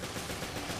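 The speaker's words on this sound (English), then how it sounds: "And begin to shoot them with your machine gun." Sustained machine gun fire in the Resident Evil Revelations Trench Raid mode, a dense continuous crackle of rapid shots lasting under a second with no voices.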